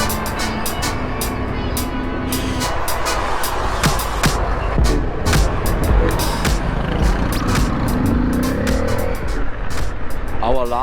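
Busy road traffic near Dakar harbor in Senegal, with trucks and cars passing close by, engines rumbling and tires hissing, intermittent horn-like tones and clatter, continuous and fairly loud.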